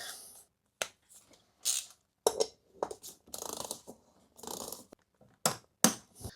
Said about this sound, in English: And we'll torque it down.